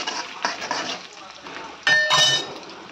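Green chili with urad dal and chana dal frying in a pan, a soft steady crackle with a clink of metal near the end, heard under background activity.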